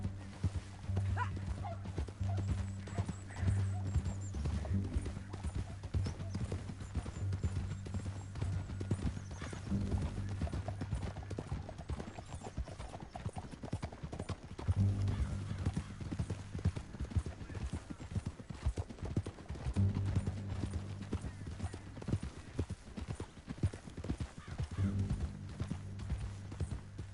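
Horse hooves clip-clopping at a gallop in a Red Dead western video game, a steady rapid drumming with occasional whinnies, low in level under music and ambient game sounds.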